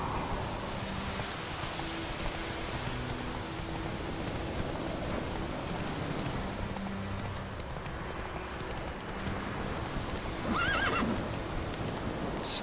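Geralt's horse Roach gallops in The Witcher 3, with steady hoofbeats pounding over a constant rain-like hiss and a neigh near the end. The sound is faint and has no speech over it.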